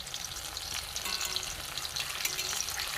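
Semolina snack batter sizzling steadily as a batch fries in a pan, a continuous close crackle with small bursts and no voices.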